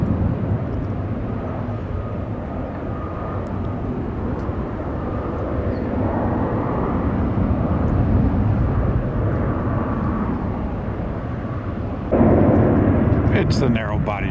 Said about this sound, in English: It's the narrow body jet hour at SFO.